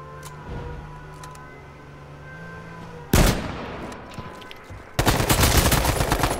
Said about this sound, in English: And I got another dude shooting at me.